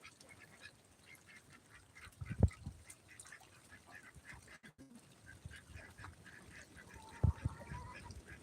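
Muscovy ducks in a farmyard, giving a couple of short, distinct calls a few seconds apart against a quiet outdoor background.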